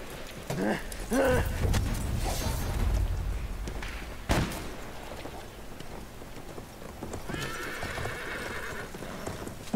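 In the video game Battlefield 1, a horse neighs loudly near the start, followed by hooves clopping and a sharp thud, with a second whinny later on.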